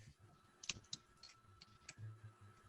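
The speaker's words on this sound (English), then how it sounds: "Is she typing it out? I heard typing sounds." Faint typing on a computer keyboard, a handful of irregular soft clicks and taps heard at a distance over a quiet call background.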